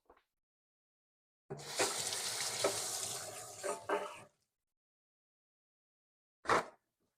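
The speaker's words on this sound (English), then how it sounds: "Let me just wash my hands." Tap water runs steadily into a kitchen sink for about three seconds while hands are washed, with a brief splash or rustle afterward; fairly quiet and close, no talking.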